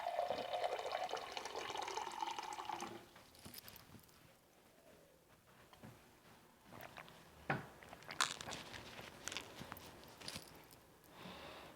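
A little water is poured into a cup, a faint rising trickle over the first few seconds, followed by quiet rustles and soft knocks.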